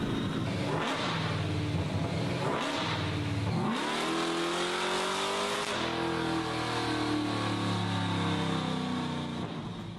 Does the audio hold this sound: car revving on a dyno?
yes